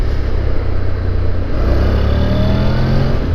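A 2012 Honda NC700X DCT motorcycle accelerates hard at full throttle, its engine note climbing steadily in pitch over a heavy low rumble and wind roar, loud and close.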